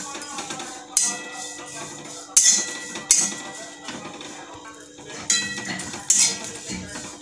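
Dried shrimp are dry-roasted in a metal kadhai while a spatula scrapes and clanks against the pan in sharp, irregular strikes, with a steady sizzle-like hiss between them, close up and with no talk.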